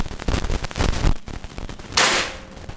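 A PCP Grand Kinto air rifle fires one shot, a sudden close crack that stands out after a stretch of softer scuffing and handling noise, then fades quickly.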